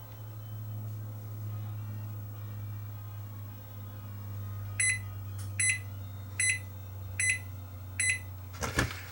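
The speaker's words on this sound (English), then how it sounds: "all it'll do is beep when it gets to the end." A kitchen appliance timer beeps five times in an even, regular rhythm over a constant low electrical hum, ending with a louder click or clatter.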